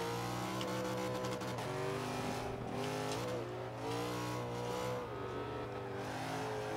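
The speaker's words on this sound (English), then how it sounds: "it also sounds like a V8" A Nissan GT-R R34 racing car engine in Forza 5 roars continuously, its pitch rising and falling as it revs through gear changes, loud and close with no talking.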